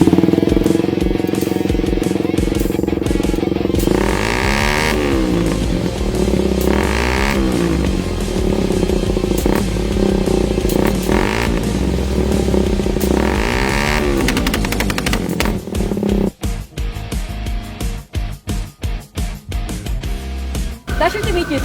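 A custom-built, modified Suzuki Raider 150 motorcycle engine runs loud and close, with revving swells and a choppy, popping idle near the end; talk is heard over it in places.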